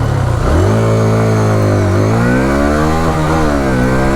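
A Hero Xtreme 160R 4V motorcycle accelerates hard and close, its engine note climbing steeply, dropping briefly at a gear change, then rising again as it pulls through the next gear.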